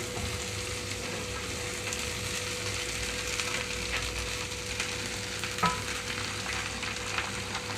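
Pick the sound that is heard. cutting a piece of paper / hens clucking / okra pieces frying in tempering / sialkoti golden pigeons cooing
okra pieces frying in tempering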